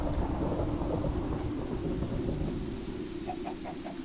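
A thunderstorm generated by the Weather2 mod in a video game rumbles low and continuously, with a dense bed of rain-like noise and a few faint higher ticks near the end.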